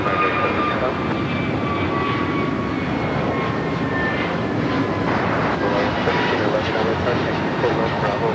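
A jet aircraft takes off from runway 24 left at Los Angeles International Airport, a steady loud engine roar with whining tones that fills the whole stretch, heard from a distance without speech.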